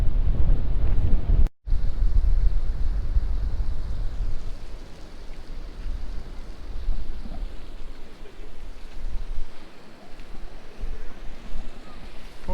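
Strong west wind buffets a seaside clifftop in rainy weather, a loud rumbling gusty roar against the microphone that briefly drops out, then settles into steadier blowing with some faint voices.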